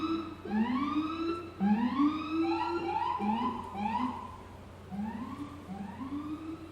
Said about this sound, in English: Was that ambulance or was that cops? It's usually an ambulance around here.